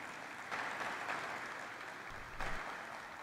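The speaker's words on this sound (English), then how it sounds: "Can we have a huge round of applause for him" Audience applause fills a hall at an ONGC corporate celebration marking thirty years of the company's stock listing, a steady dense clapping that swells slightly midway and again near the end.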